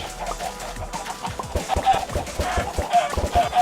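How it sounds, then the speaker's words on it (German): Chickens in a Minecraft chicken farm cluck in a busy, overlapping stream of short, repeated clucks, moderately loud and close, with no pauses. "Und irgendwie kommen die Hühner auch immer irgendwo raus."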